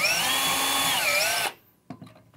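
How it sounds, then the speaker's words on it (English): A power drill whines loudly and steadily for about a second and a half while drilling a pilot hole in wood, then stops, followed by a faint knock. "I just drill a quick pilot hole"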